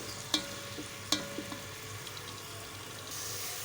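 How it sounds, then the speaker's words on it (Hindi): Onions frying in a pan give a soft, low sizzle with a couple of sharp clinks from stirring near the start. "इसमें हमने प्याज ऐड कर दिए हैं। अब हम इनको फ्राई करेंगे।"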